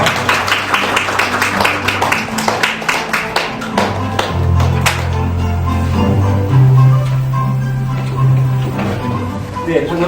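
An audience at a disability voting-rights forum claps for a speaker coming to the stage, a fast patter of applause that thins into scattered claps while a low hum and murmur continue beneath.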